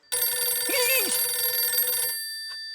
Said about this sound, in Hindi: मेहता साहब फिर से आया फोन